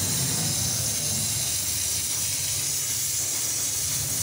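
Fish curry broth with mustard paste bubbles on the stove, a steady loud hiss and seething boil that runs unbroken, close up, with no voices.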